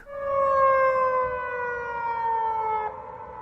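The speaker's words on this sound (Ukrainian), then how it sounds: "Сирени, чи то повітряної, чи то водної тривоги лунають тепер також і у місті Орінбург." Air-raid or flood warning sirens in the city of Orenburg wail as a loud, sustained, steady tone that dips slightly in pitch near the end.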